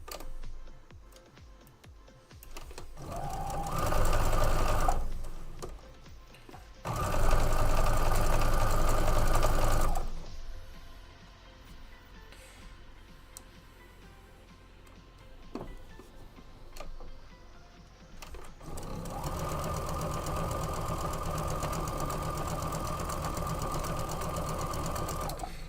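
A sewing machine stitches quilt blocks in several bursts of fast, rhythmic whirring, stopping and restarting with quieter ticking, rustling and handling noises between runs.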